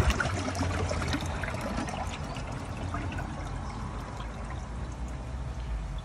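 Water pours steadily into a refilling tank after a valve is opened, which also purges the bottom drain. It is a continuous, fairly loud rushing flow that stays even throughout, with no voices.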